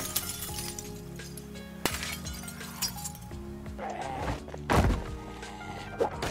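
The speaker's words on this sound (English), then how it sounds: "This window was locked, so I quickly and quietly smashed the crap out of it." A locked window is smashed in the Project Zomboid video game, with sharp thuds of impact and then a loud burst of shattering glass and tinkling shards against a low background.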